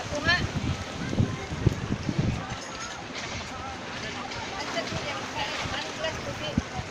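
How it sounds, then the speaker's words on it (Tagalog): Strong wind buffets a floating cottage on open water with rough waves, a steady rushing roar with microphone gusts, a voice speaking over it early on. "So, mahangin na po talaga, guys. Mahangin. Sobrang hangin na po."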